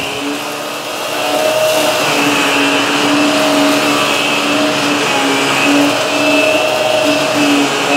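A Shark NV352 Navigator Lift Away upright vacuum runs steadily over carpet while picking up spilled cereal chunks, giving a loud, even motor whine with a faint rattle of debris and no speech.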